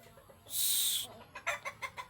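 A burst of noisy hissing flutter, then a rapid series of short clucks from chickens, close and moderately loud.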